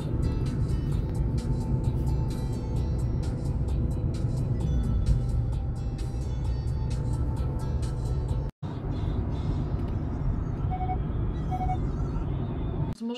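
Steady, continuous road noise from inside a car driving toward Zakopane, a constant low rumble with a brief dropout and a couple of short tones near the end.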